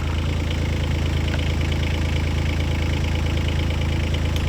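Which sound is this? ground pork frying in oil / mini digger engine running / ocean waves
mini digger engine running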